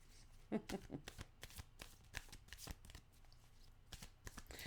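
Tarot cards being shuffled by hand, a close run of quick riffling flicks and soft papery slaps in uneven bursts, with no talking over them.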